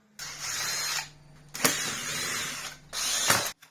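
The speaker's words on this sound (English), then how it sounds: "Now we need to get a screwdriver and remove this panel." Panel screws come out of a Dyson DC03 vacuum in three separate whirring, grinding bursts about a second each, close up, with short silent gaps between them.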